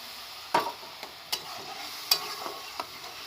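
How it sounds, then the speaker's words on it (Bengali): Spices cooked with ginger-garlic paste, chilli, turmeric and mustard paste in a pan for a fish curry, stirred with a few sharp spoon scrapes and taps over a soft, steady sizzle. "ভালো করে আমি মশলাটা কষিয়ে নেব"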